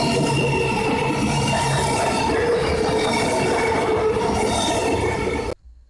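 A southbound ICE high-speed train passes at Virginia with a continuous loud rumble and rolling wheel noise that holds steady for several seconds, then cuts off abruptly.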